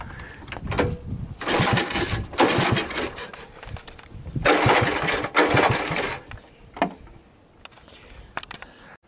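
A 1980 Honda ATC 110 three-wheeler, recently fitted with a replacement stator, starts with its choke worked on and off. Its small engine fires in loud, uneven bursts of revving that fade between pulls and settle into sputtering before it quiets.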